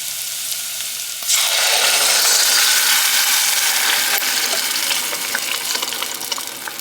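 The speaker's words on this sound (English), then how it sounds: "So I'm going to use crushed tomatoes, and I'm going to go ahead and add it." Crushed tomatoes poured into a hot pan of sauce for a shrimp parm sandwich set off a loud, steady sizzle that swells suddenly and holds, then fades slightly.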